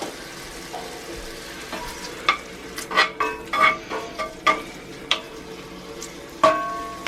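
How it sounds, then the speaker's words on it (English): Faint sizzling of bacon frying in a cast iron pan under a series of metallic scrapes and taps from utensils, irregular and close. "So the bacon is beginning to sizzle."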